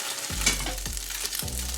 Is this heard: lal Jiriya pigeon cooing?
no